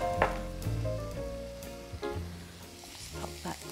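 Finely diced onion softens in a pan with a steady close sizzle, broken by a few soft scrapes and clinks of stirring, and no voice heard.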